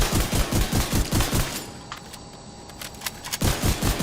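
Rapid automatic rifle fire from the video game The Division 2 comes in loud bursts aimed at enemy headshots, breaking off for a short pause before the shots start up again.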